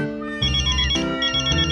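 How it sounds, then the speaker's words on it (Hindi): A mobile phone rings with an electronic melodic ringtone for an incoming call, a loud stepped chime tune with no voices over it. "अरे अंजलि का फोन।"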